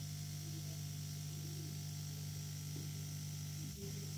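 A small air compressor pressurizes a line for a handheld manometer test, humming as a steady, faint, even electric drone with no change in pitch throughout.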